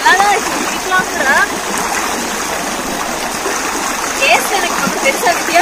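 Cold mountain stream water tumbling down falls in the Yercaud foothills at Kurumbapatti, a steady loud rushing splash with trickling detail, continuous throughout while a person talks over it.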